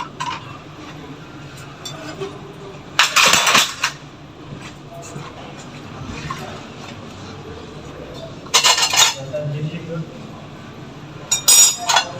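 Dishes clink and clatter in three short bursts, with quieter kitchen handling noises and a low hum in between.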